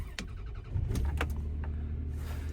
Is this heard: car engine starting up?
yes